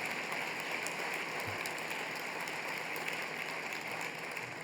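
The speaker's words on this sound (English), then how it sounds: "Give Tom a big round of applause" Steady, even applause from an awards luncheon audience, heard at moderate distance as a continuous hiss of many hands without talk.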